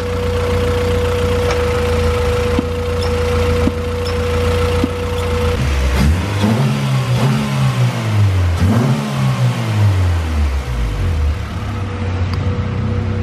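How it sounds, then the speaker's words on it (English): A car engine idles with a steady hum, then revs up and down in two or three rising and falling sweeps, close and loud, with no talking over it. "the motor sounds really good"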